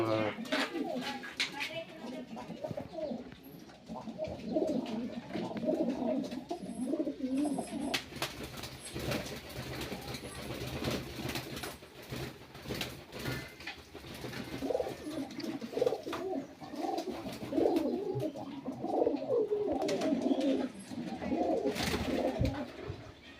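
Pigeons coo continuously in a loft, several birds overlapping in soft rolling calls, while someone talks throughout.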